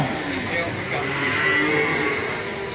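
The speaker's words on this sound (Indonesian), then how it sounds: "Sapi potong." Beef cattle low steadily over a broad, continuous bed of sound, with several overlapping moos and no clear pauses throughout.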